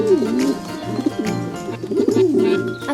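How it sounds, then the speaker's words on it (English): A pigeon coos in soft, low, rolling warbles, several throaty phrases in a row, with a quiet musical backdrop underneath. "Pigeon."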